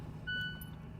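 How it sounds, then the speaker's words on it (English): Inside a car, the front seat occupancy warning gives one short, clear electronic beep over a low engine hum, fairly quiet overall. "if you're wondering what that beeping is, it's my car thinking that someone is in the front seat"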